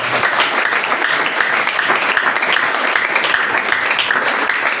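A church congregation at a Sunday worship service bursts into loud, sustained applause, a dense wash of clapping from many people that holds steady throughout without a break.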